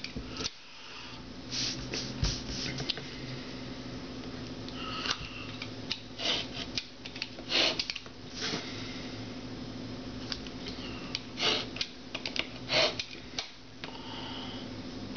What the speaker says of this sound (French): on va utiliser le cutter, le dos du cutter, la partie qui ne coupe pas, pour marquer chaque rainage du papier